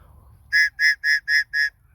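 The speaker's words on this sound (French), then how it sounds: "c'est un sifflet d'urgence, de secours" An emergency rescue whistle gives five short, piercing blasts in an even rhythm, loud and close, with near silence between them and no talking.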